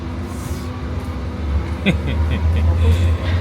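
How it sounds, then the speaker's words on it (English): A small train rolls through Berlin with a steady low rumble and hum throughout, some faint clicks and squeaks over it, and people talking nearby. "On a wee train."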